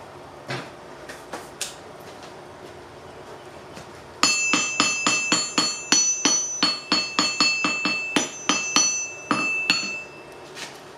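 Cable Damascus steel being forged into a bottle opener with a hand hammer: a few scattered blows, then a steady run of ringing metallic strikes about twice a second, bright and close, no talk.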